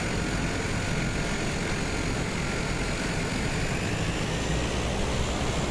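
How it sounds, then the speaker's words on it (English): A Cessna Grand Caravan turboprop taxis in Microsoft Flight Simulator, its engine a steady, fairly quiet drone with a constant whine above it and no change across the stretch. "So now we're ready to taxi to the runway. Release the parking brake."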